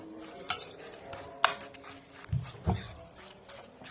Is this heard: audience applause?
no